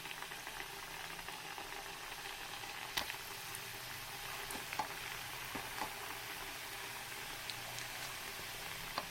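Spiced peanut mixture frying in hot oil over a lowered flame, a steady dense sizzle with crackling pops throughout, moderately loud and close, with no talking.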